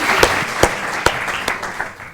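Sparse claps from an eloquence contest audience sound out a few at a time over a roomy background and thin out quickly.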